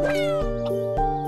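A cat in the video game Edgar - Bokbok in Boulzac gives a couple of clear, close meows in quick succession, loud and alone with no talking.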